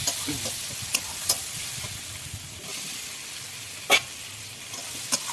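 Chilli, turmeric and tomato sizzling in a pan while being stirred for a Bengali fish curry, a steady soft frying hiss with occasional sharp scrape clicks from the spoon, no voices.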